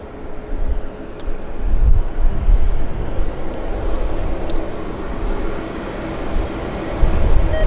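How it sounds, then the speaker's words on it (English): A WestJet jet aircraft passes near Vancouver Airport, a loud, broad, rumbling roar that swells and holds steadily, with wind buffeting on the microphone. "I hear a jet. I guess it's that WestJet that we're picking up the audio on."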